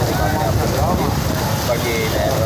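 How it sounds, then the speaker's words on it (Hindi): Heavy storm rain in Karachi hisses in a dense, constant downpour, with a voice faintly audible through the noise. "काफ़ी तेज़ बारिश है।"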